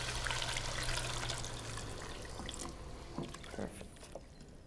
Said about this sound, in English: And then slowly pour this into the white sauce or the roux.